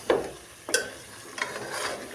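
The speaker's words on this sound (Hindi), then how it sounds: "तो अभी इसको थोड़ा सा हम चलाएंगे ताकि अच्छी तरीके से मिक्स हो जाए मसाले और अच्छी तरीके से गोश्त हमारे रेडी हों।" Chicken pieces with biryani masala and yogurt get stirred in a pot, three or four distinct scraping clanks of a spoon against metal spaced apart over a quiet simmer.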